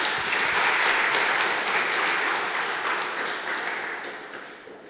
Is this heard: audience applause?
yes